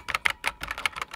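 Keys are pressed on a SIGNO KB-748 IP68 waterproof keyboard, giving a quick run of about eight close, crisp plastic clicks in an uneven rhythm.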